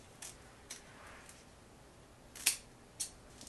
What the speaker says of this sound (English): So I'm gonna go ahead and just cut away the excess from the ears.